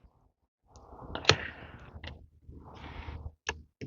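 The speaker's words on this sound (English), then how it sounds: "I'm just going to snip away all of these branches that are infected" Garden shears cutting back infected branches of a plant in a tropical garden: a couple of sharp, close snips separated by brushy rustling of foliage, then quiet.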